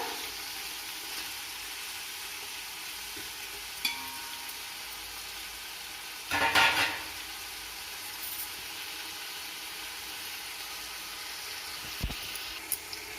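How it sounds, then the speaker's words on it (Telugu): Onions and green chilies fry for veg biryani with a faint, steady sizzle, broken by a short burst of stirring or clatter midway and a few small knocks. "ఉల్లిపాయ, పచ్చిమిరపకాయ కొంచెం వేగాయి కదా"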